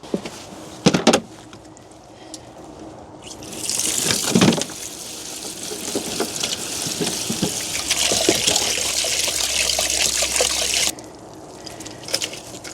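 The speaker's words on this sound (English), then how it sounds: "the rest of it I'm just going to rinse off under the water butt" Water splashes and trickles steadily from a garden water butt as chilli plant roots are rinsed, close and continuous for several seconds, with a few knocks and handling sounds before and after.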